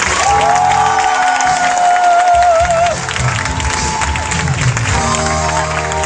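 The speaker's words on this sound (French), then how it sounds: "On va acclamer encore Jésus." A church congregation applauds and cheers steadily throughout, a continuous crowd roar with a sustained tone and music underneath.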